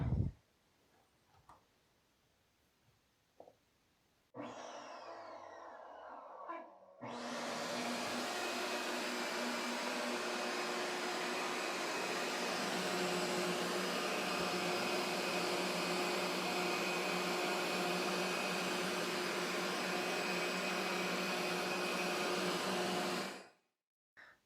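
Shop vac blower powering a small homemade cyclone dust collector switches on and runs as a steady, loud whooshing roar for about seventeen seconds, then cuts off, after a few faint handling clicks.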